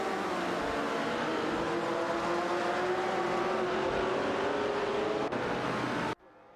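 Racing game cars, a Ferrari 250 LM and a Shelby Cobra 427, engines droning with a rising whine as they run neck and neck, steady and fairly loud until an abrupt cut near the end.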